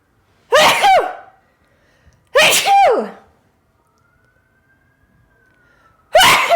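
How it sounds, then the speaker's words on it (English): Three loud, sharp sneezes close up, spaced a couple of seconds apart, with quiet gaps and a faint distant tone between them. "I have to sneeze"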